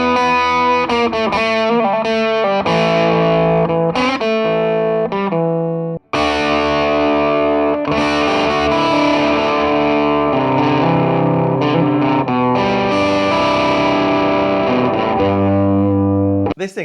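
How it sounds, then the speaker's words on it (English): Electric guitar through an Epiphone Valve Junior amp into a Marshall 2x12 cab with vintage Greenback speakers, loud distorted chords and riffs played near and continuously, with one brief break. "everything else you're hearing in this video is actually this amp plugged into my 2x12 Marshall cab with some vintage greenbacks in"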